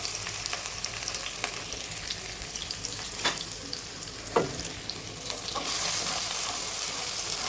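Onions frying in mustard oil for vegetable khichdi, a continuous close sizzle with occasional pops and scraping stirs, growing a little louder and hissier toward the end; nobody talks.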